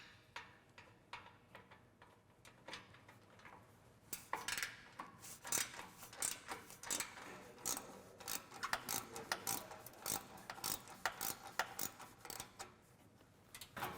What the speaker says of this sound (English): this clamp here we're going to loosen. You're going to need a 13 mil socket for this ball clamp.